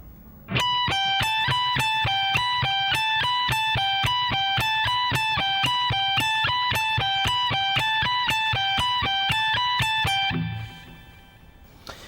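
Electric guitar runs a slow, even speed-picking exercise for a rock soloing lesson, dense steady picked notes repeating in a tight loop at a constant tempo, loud and close, then stopping abruptly near the end.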